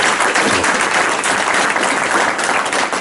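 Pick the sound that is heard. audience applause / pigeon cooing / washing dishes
audience applause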